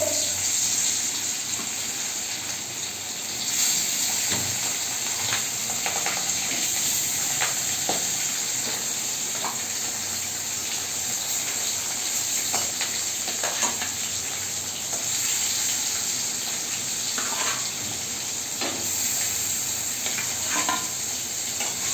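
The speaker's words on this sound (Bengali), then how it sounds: "আমার তেলটা গরম হয়ে গেছে, এর মধ্যে আমি এক করে মাছগুলো দিয়ে নেব ভাজার জন্য।" Fish fried in hot oil with turmeric, a dense continuous sizzle and hiss with occasional spatters and stirring clicks, close and steady throughout with no talking.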